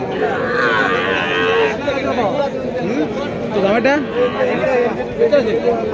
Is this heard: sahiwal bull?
yes